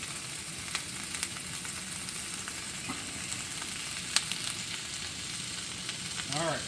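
Onions and bell peppers frying in a pan give a steady, close sizzle with occasional light scrapes and taps of stirring, continuous throughout without talk.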